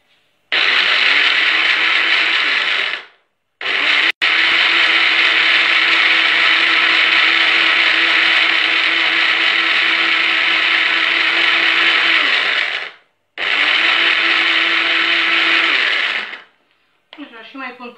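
A blender runs loudly in long steady bursts, whirring through almonds and water, briefly cut off twice before starting again, then stopping near the end.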